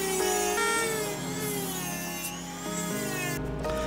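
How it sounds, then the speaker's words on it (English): Rotary tool grinding excess foam off the sides of a foam armor piece, a loud, high continuous whine that dips in pitch as it bites into the material, close and uninterrupted. "I'll take my rotary tool"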